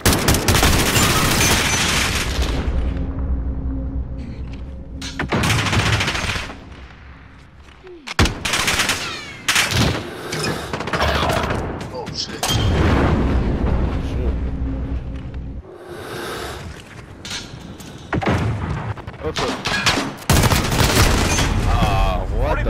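Light machine gun fire in Call of Duty: Modern Warfare, loud dense bursts of automatic gunfire repeating through the stretch with short gaps, mixed with game effects and people talking over it.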